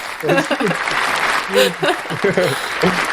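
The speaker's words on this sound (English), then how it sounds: "So round of applause for that." An audience claps steadily throughout, a dense rattle of many hands with a voice talking loudly over it.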